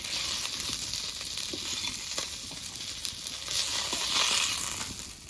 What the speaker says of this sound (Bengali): মাছগুলো সব ভাজা হয়ে গেছে এবার নামিয়ে নেব